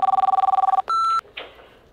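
A phone rings for an incoming call: a fast, loud electronic trill of repeated pulses, then a steady higher tone and a brief click as it cuts off, with no talking.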